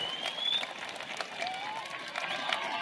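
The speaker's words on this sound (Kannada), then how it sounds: "ಅವ್ರಿಗೆ ಜೋರ್ ಚಪ್ಪಾಳೆ ತಟ್ರಿ ಎಲ್ಲಾ ಅಂಗಡಿಯವ್ರಿಗೆ" A crowd claps for local shopkeepers at a public awareness march, steady, fairly distant applause with a faint tone drifting through.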